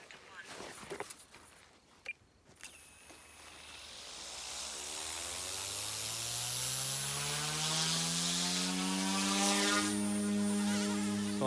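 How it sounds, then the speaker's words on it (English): An OMPHOBBY M2 RC helicopter starts up with a steady rising motor whine and rotor buzz that climbs in pitch and holds loud and close. A few clicks and brief noises come before the spin-up. "So I'm starting the helicopter."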